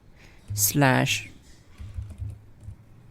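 Computer keyboard typing during a Windows 11 blue screen repair, a soft flurry of close key clicks following a short burst of speech.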